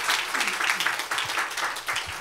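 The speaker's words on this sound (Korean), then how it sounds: "우리 한 번 더 박수로 하나님께 감사" A church congregation applauds at a second-anniversary service, a dense wash of many hands clapping together through the short stretch without letup.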